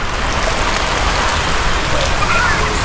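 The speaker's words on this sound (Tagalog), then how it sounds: "Pumatak na naman yung ulan." Steady rain falling outdoors near a house, a loud, continuous close hiss of drops hitting surfaces that never lets up.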